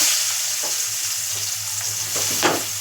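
Onions frying in a pan for an eggplant curry, a loud, close, continuous sizzle with a few stirring scrapes and no voices.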